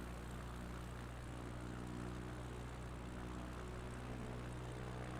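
A small propeller bush plane in flight over the Apennines gives a steady, droning engine hum with a constant low buzz, continuous and unvarying, with no talk.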